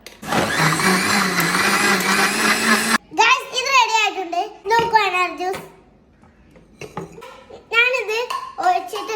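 A kitchen blender crushes pomegranate juice with frozen milk in one loud, steady whir lasting about three seconds, followed by people talking, including a child.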